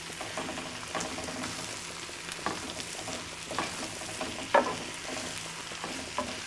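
Spinach mixture cooking down in a pan for Irish quesadillas, a quiet steady sizzle with occasional soft stirring clicks and scrapes.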